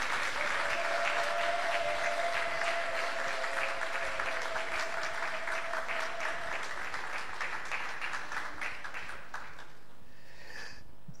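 A church congregation applauds loudly and steadily for a long stretch, the clapping dense and continuous, with a sustained tone beneath it before the applause fades out near the end.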